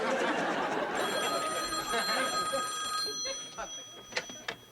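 A household telephone in a sitcom home rings with bright electronic trills, steady for a few seconds before fading out under light background chatter.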